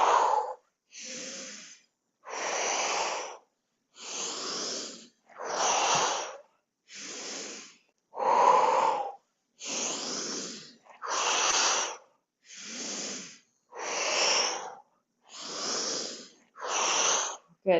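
Deep, forceful breaths come in a steady rhythm during a body-awareness exercise: about thirteen loud, separate inhales and exhales, close to the listener, with short silent pauses between them.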